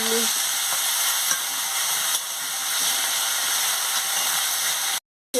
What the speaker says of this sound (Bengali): দিয়ে ভালো করে ভেজে নিচ্ছি